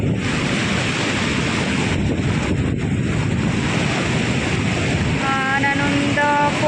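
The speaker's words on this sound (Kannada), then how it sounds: "ನೀರು ಸೌಂಡ್ ಕೇಳಿಸ್ತಿದ್ಯಾ?" Water rushes steadily at Haluvagilu waterfall, a loud and constant roar of falling water that fills the outdoor scene without a break, with faint wind buffeting the microphone.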